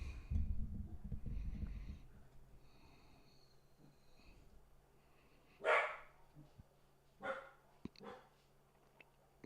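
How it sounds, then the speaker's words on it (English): Several dogs bark outdoors at a distance, three separate barking bursts spaced a second or two apart after a muffled low rumble, moderately loud against a quiet room. "Dogs are just barking outside."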